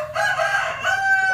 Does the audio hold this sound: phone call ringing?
no